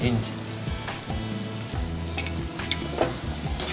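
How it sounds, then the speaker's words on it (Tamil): Papaya fries in a pan with garlic and ginger, giving a sizzle and crackle beneath a low, shifting musical drone, with occasional sharp pops and stirring clicks. "பப்பாளி கொஞ்சம் ஃப்ரை ஆனதுக்கப்புறம் கொஞ்சம் பூண்டு, கொஞ்சம் இஞ்சி."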